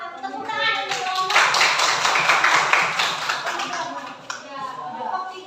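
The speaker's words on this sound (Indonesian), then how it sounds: "Tepuk tangan dong." A classroom of students claps after a group presentation, a steady patter of many hands for a few seconds that thins out toward the end, with voices around it.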